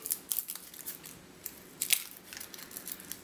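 Dry papery crackles and crinkles come in quick bursts as a garlic clove is twisted and its skin peeled off by hand, close up and alone.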